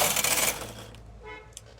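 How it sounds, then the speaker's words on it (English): A Brother knitting machine carriage sweeps across a row in punch card mode, giving a loud, rough mechanical rasp for about half a second, then a quieter clattering tail as it settles. "So I'm going to knit one row right now."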